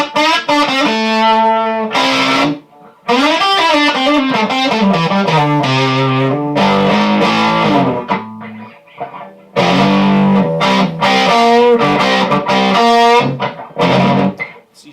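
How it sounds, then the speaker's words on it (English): Phat Champ amp from Frugal Amps at gain setting 4, driven guitar chords and riffs with thick distortion and long sustain, loud and continuous with brief pauses between phrases, no talking. "what does increase is the amount of distortion and sustain"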